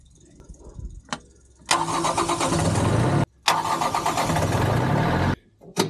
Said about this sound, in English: before I fire up the generator